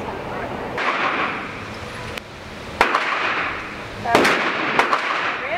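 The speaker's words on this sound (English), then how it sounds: "Commence firing at your own pace." Gunshots at an indoor shooting range, a 5mm rental gun among them, sounding as sharp loud cracks spaced a second or so apart over a constant roar of range noise and faint talk.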